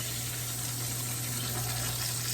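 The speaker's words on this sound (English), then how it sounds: "So we're just gonna run some cold water over it to kind of thaw it out." Cold tap water runs steadily over frozen food in a kitchen sink to rinse and thaw it, a constant close rush with no talk.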